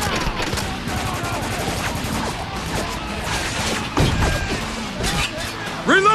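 Heavy machine gun fire in Spec Ops: The Line during a battle, sustained rapid bursts and crashing impacts under a dense combat mix, loud and continuous, with soldiers shouting over it.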